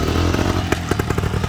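A Bultaco 350 trials motorcycle with a 5-speed gearbox driving past, its engine a loud, steady buzzing drone with sharp rattling pops as it goes by up close.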